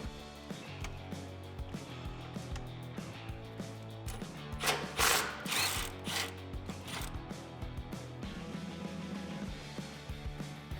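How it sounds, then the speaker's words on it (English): A hand ratchet with a 12mm socket and extension clicks rapidly and repeatedly up close, removing a brake line bracket from a truck frame, with brief tool scrapes and no speech. "I'm also going to use that 12mm socket and the 3-inch extension."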